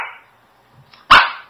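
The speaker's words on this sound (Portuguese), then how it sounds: "a gente já vai saber que é um cachorro latindo" A single dog barks once, loud and close, after a brief fading tone and near silence.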